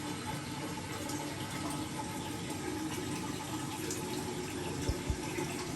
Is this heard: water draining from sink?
yes